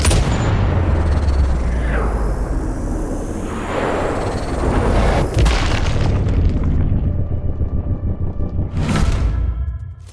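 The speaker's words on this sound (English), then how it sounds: "The initial gunshot actually sounds like a gun, the dramatic whooshing noises are much more salient, and the impact sound is deliciously visceral." A sniper rifle fires in the video game Sniper Ghost Warrior Contracts 2. A loud booming shot is followed by dramatic whooshes as the bullet flies, then a heavy, visceral impact, all close and without speech.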